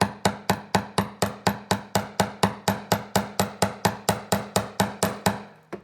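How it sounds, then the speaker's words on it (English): A ball peen hammer taps wire on a beading pendant to harden it, about twenty sharp, evenly spaced metallic strikes close up at a steady quick rhythm, with no talking. "I'm going to use the ball peen side of my hammer, and I'm working on the back, and I'm just tapping the wire and hardening"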